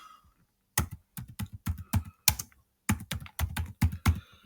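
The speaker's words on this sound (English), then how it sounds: "begin to type." Someone types a video project title on a computer keyboard: close, crisp key clicks arrive in quick bursts and short runs, with brief pauses between groups of strokes and no speech.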